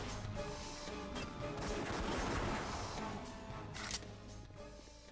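Pistol gunfire in the video game Dead to Rights comes as a quick, muffled volley of shots blended into busy game sound, fairly faint overall.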